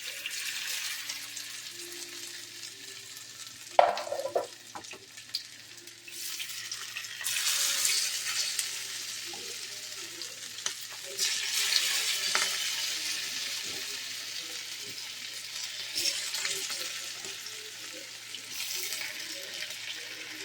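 Cauliflower pieces coated in rice flour frying in hot oil give a soft, steady bubbling hiss that swells in waves as more pieces drop in, with an occasional knock of a utensil.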